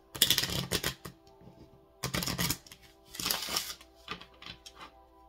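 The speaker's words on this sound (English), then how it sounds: "Last shuffle here." Playing cards riffled and shuffled up close in three quick bursts, each a rapid flutter of snapping cards, separated by quieter handling.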